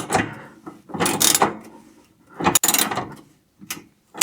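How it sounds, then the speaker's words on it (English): A power tool drives heavy-duty TV mount bolts tight in short bursts of whirring and clicking, close and loud, with brief pauses between pulls. "Now I can drive these bolts the last bit of the way."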